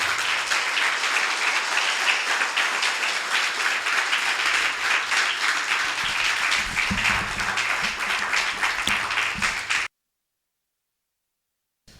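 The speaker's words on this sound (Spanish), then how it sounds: "Pues dale un aplauso de nuevo al Señor grande." A church congregation applauds together during a sermon, a dense steady wash of many hands clapping that fills the room for about ten seconds before stopping abruptly.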